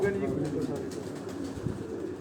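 Three pigeons coo softly in low, throaty murmurs nearby on a rooftop, with someone talking over them for much of the time.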